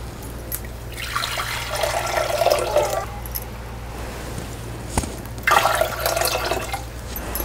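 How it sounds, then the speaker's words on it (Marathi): Water is poured into a clay pot sitting on a wood-fired stove in two separate splashing bursts, each a few seconds long, over a low steady hum, with a sharp knock between them. "त्यासाठी बघा पाणी घालते।"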